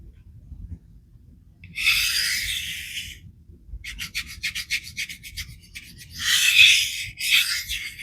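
A CPM S3 steel knife blade is drawn across a freshly flattened Kuromaku 1K whetstone, making close, gritty rasping strokes in separate passes, some long and smooth, others quick and repeated, with no talk.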